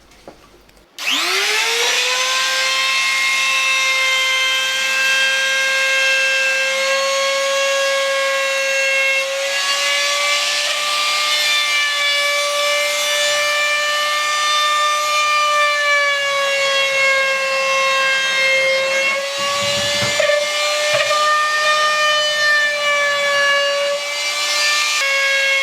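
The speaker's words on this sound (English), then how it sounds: "I routed a chamfer to protect the MDF edges" A router cuts a chamfer along MDF edges with a loud, steady high-pitched whine that spins up sharply at the start and holds for a long stretch, dipping briefly once as the bit bites.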